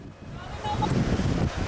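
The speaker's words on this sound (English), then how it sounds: "I had a real good time just watching the waves roll in." Ocean waves roll in on a very windy day at the Swedish coast near Kåseberga, a broad roaring wash that swells louder halfway through, mixed with heavy wind buffeting the microphone.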